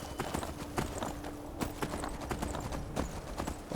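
Rapid hoof clip-clop of a horse galloping in the Skyrim video game, a steady run of hoofbeats heard over game ambience with no talking.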